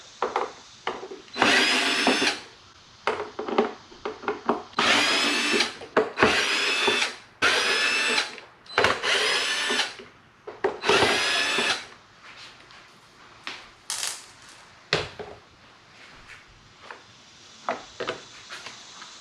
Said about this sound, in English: we're just going to take out these screws for the tray